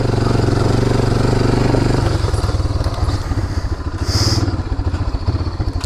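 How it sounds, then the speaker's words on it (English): Four-wheeler ATV engine revving hard during a wheelie attempt, a loud, close, rough motor drone that surges and pulses throughout, with a brief rattling clatter near the end. "let's see if we can get a good wheelie in here."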